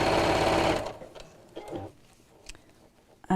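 A sewing machine stitches fabric for a drawstring box bag in a fast rapid whirring run that stops, followed by quieter clicks and handling of the machine and cloth, then a brief restart.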